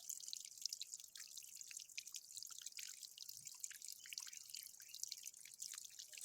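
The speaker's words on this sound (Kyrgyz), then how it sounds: "Агып аткан суу өтө аз, бирдей." Water drips from a drip irrigation line in a field, giving steady, faint, close patters and small droplets with no talk.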